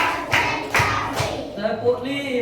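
Schoolchildren in an elementary classroom clap a counted rhythm pattern, three sharp claps spaced evenly, then a pause with voices chanting underneath.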